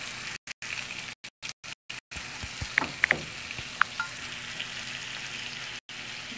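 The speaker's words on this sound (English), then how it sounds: "So I'm going to ladle some more of that juice on here." Wild caught salmon fries in a pan as juice is ladled over it, giving a soft, steady sizzle with a few light clinks, faint and close, broken by short silent gaps.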